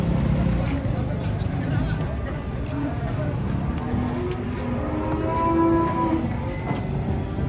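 Giant jumbo cattle being unloaded from a truck, low lowing moos rising repeatedly through a busy crowd, with people chattering and calling throughout.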